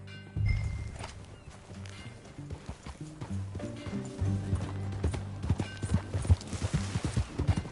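Horse hooves clip-clop steadily at a riding pace in the Western game Red Dead Redemption 2, close and continuous, with a brief whinny near the start and rhythmic hoofbeats running throughout under faint background sound.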